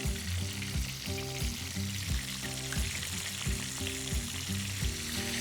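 Chicken fried steak fries in a cast iron skillet with a steady, dense sizzle and crackle that holds at an even level throughout, with a faint tonal layer underneath.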